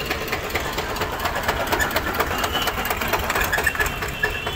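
A 2002 Ford 3230 side-gear tractor idles at a tractor market, a steady close rattling diesel chug with a fast even knock and no speech over it.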